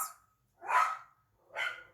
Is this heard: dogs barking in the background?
yes